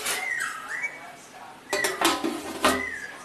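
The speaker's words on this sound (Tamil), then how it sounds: "இதை இப்ப மூடி விட்டுடலாம்" A metal lid clanks onto a pot of mutton biryani made with seeraga samba rice, giving a few sharp metallic clatters and clinks over a thin whistling tone, moderately loud.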